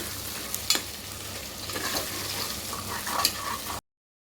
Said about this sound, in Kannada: ಸೊ ಇದಿಷ್ಟು ಫ್ರೈ ಆದಮೇಲೆ ಟೊಮೊಟೊ ಹಾಗೆ ಹಾಕ್ಕೊಳ್ತಾ ಇದ್ದೀನಿ.